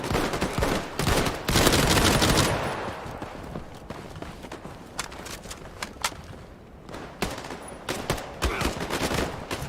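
Rapid bursts of gunfire from the WWII shooter Battalion 1944, with heavy volleys early on and then scattered, sharp shots. The shots are loud and close, and a voice is briefly heard between them.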